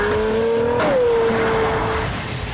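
A Pagani Zonda F Roadster with a 650-horsepower engine accelerates hard, its loud, continuous engine note climbing steadily, dipping briefly at a gear change, then pulling on in a high, sustained wail.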